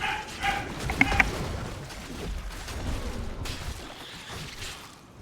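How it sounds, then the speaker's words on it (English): A dog barks and yips a few times in the background, fairly faint and mixed into room noise and low rumble, with the sharpest barks clustered near the start. "Sounds like even the dog was upset by that kill."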